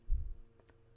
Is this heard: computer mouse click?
yes